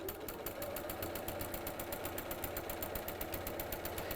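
A sewing machine stitches quilting lines with a fast, even mechanical chatter of regular needle strokes, close and steady throughout with no voices.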